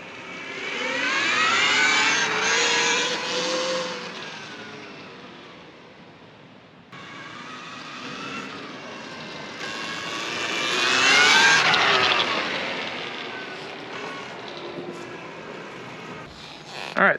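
A high electric motor whine swells and fades twice as a KTM Freeride E-XC electric dirt bike rides past, with no combustion engine roar.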